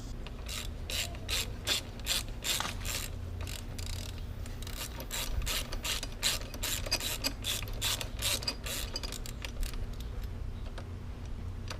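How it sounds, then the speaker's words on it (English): A ratchet wrench is turned on the engine mounting of a 2007 Suzuki RM125 dirt bike, giving rapid close clicking in repeated bursts of strokes with a steady low hum underneath. "put your wrench in there, turn it."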